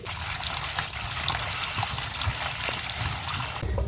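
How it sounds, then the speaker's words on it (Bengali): Continuous running and trickling water as chopped ghetkochu (taro) leaves and stalks are washed, a steady close wash of splashing with small knocks, ending abruptly. "এবার এগুলো ভালো করে ধুয়ে নেব।"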